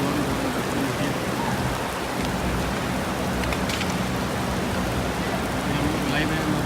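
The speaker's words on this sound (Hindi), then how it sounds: "बहुत ही तेज़ हो गई बारिश" Heavy rain pours steadily at Masjid-e-Nabawi in Medina, a thick continuous hiss of drops on open ground with a faint voice somewhere beneath it.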